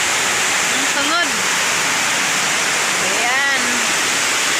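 Very heavy rain pours down in a loud, dense, continuous roar, with a couple of brief voice sounds rising over it.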